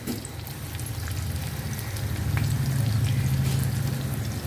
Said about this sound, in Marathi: तेल तापलेलं आहे आता आपण याच्यामध्ये वड्या घालून घेऊया